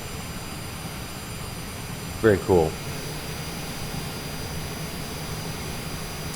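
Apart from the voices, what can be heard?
airplane jet engines taxiing in flight simulator video game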